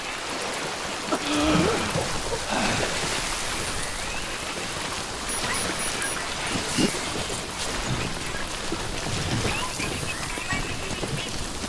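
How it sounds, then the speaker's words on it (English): Steady rain pattering across open ground in the game Death Stranding, a continuous wash of hiss and droplets lasting the whole stretch, with a few brief louder ticks and no talking. "Don't stay out in the rain any longer than you have"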